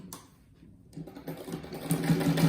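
A sewing machine joins fabric scraps for a rag rug, starting after a brief quiet and building into a steady, close whirring stitch run.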